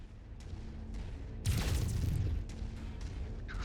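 Weapons fire from giant mechs in Mechwarrior 5 Mercenaries, a modded career battle: a series of dull booms and blasts with a heavy burst near the middle, over a constant low rumble of engine and battlefield noise.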